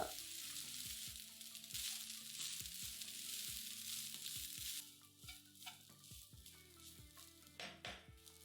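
Cooked rice being stirred into a frying pan with chopped green chilli for garlic rice, loud continuous sizzling and frying broken by repeated scraping strokes of a spoon against the pan, close and with no talking.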